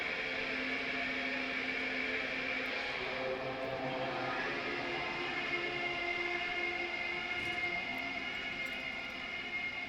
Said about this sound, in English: Sound outside, you recognize it. It's a Capri Kanema motor carriage.